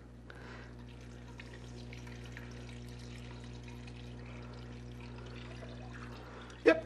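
Cold water pouring steadily into a pot for potato salad, a soft continuous stream over a low hum, ending with a brief louder splash or clunk.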